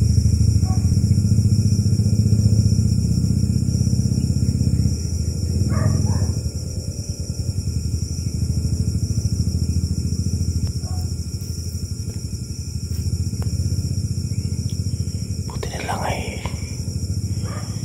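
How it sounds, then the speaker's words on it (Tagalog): A motorcycle passes outside a house in the Philippines, a loud low engine rumble that swells early and then fades off, with a dog barking briefly near the end. "Ayan, may motor. May motor."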